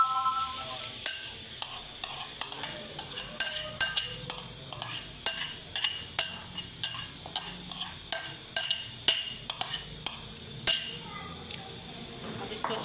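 A utensil repeatedly scrapes and clinks against a pan while marinated chicken is stirred in oil, the rhythmic strokes steady and close over a low sizzle, with a voice speaking in between.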